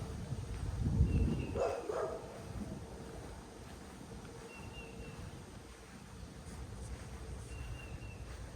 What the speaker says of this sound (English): And the neighbor's got a dog over there.